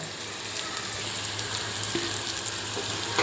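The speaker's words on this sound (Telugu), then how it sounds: "ఇవి పచ్చంతా దాకా వేయించుకోవాలండి" Beetroot frying in a pan with turmeric for chutney, a steady, dense sizzle that holds at an even level throughout without any talking.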